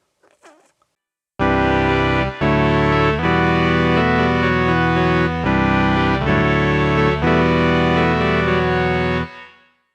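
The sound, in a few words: Sequential Take 5 synthesizer with filter envelope and reverb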